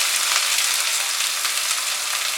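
Chopped onions sizzle in hot oil with dried red chilli and bay leaves for kadai chicken, a steady, bright hiss close up and continuous, with no talking.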